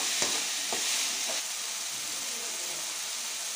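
Tomatoes frying in a pan for leftover-rice fried rice, a steady close sizzle with a few light scrapes of a spatula early on, no voices.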